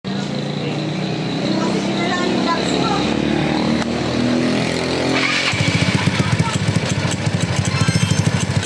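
A 192cc motorcycle engine running outside its chassis runs steadily, then shifts to a harder, rapid pulsing idle partway through; people talk in the background.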